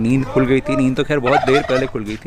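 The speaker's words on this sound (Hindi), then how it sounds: "यहाँ ये जो सारे ये टर्की की आवाज़ थी अभी जो आई थी" Turkeys gobbling in a village in the morning, a loud, close, rapid warbling burst mixed under a person talking.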